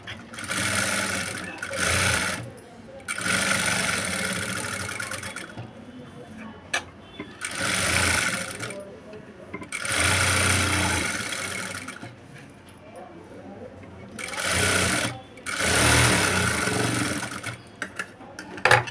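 An electric sewing machine runs double rows of stitching on the sleeves of a cut-out blouse, in several loud whirring bursts of a couple of seconds each, separated by short quiet pauses.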